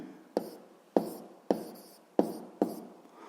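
Pen strokes on paper while notes are written down, five short scratching bursts at an even pace, close and quiet, with no talk over them.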